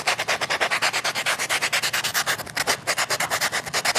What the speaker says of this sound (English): I found this a little brick, like it's a sponge with sandpaper on it.